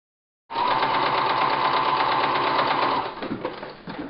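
A sewing machine runs top stitching along a folded edge of a fabric pouch in one steady, close whirring burst of about two and a half seconds, then slows into a few uneven stitches with soft handling noise.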